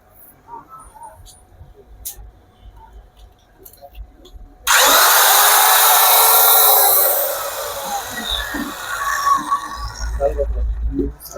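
An old ship's electronic measuring machine starts abruptly, letting out a loud, steady mechanical whir that later settles into a lower running hum, with someone talking before and during it.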